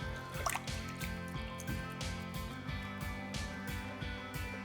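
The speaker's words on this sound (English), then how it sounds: "I'm gonna give my hands a quick wash." Hands being washed under running water after cleaning trout, a steady splashing trickle close by with irregular drips and squishy sloshes as the hands move through the stream, and no talking.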